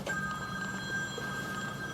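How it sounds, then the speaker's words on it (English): Inside a house under construction in Fort Worth, a telephone rings with a steady electronic tone over a roomy background hum, with no talking. "There's the phone, Saved by the Bell."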